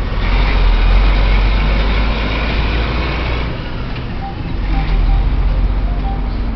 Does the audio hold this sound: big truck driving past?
yes